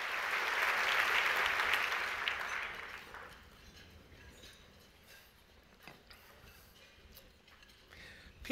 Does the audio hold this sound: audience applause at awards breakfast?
yes